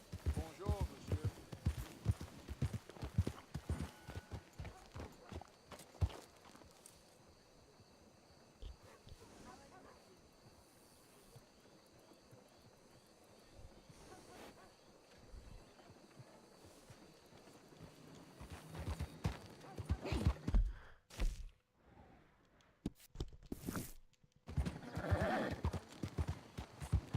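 Horse hooves clip-clop and gallop in Red Dead Redemption 2, a steady rhythmic pounding with occasional whinnies, wind and water ambience, under scattered character voices and shouts.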